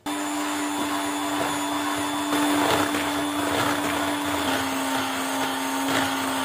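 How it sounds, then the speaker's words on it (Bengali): Electric mixer beating Swiss meringue buttercream at high speed, a steady close motor whine with a constant hum that holds evenly for several seconds and shifts pitch slightly near the end. "এবার এই পর্যায়ে হাই স্পিড দিয়ে যতক্ষণ না বাটারটা ঠিক হচ্ছে আমরা বিট করতে থাকবো"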